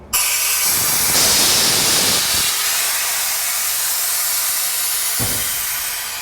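Compressed air hisses steadily and loudly from an opened valve on a DeRobo saw, a close, continuous rushing spray that slowly eases off, with no voices.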